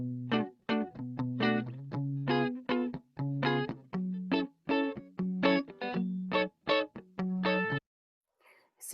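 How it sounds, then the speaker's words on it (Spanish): An electric guitar track played back in a home mixing session, a steady run of plucked notes and short chords in a bouncy rhythm, clear and fairly loud with no voice over it, ending with a brief quiet tail. "Necesito que escuchemos la guitarra."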